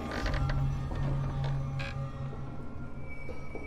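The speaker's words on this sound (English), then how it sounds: "It's an old rocking chair" An old rocking chair in the horror video game Visage creaks loudly and repeatedly, slow groaning wooden strains with mechanical undertones over a low hum, close and continuous.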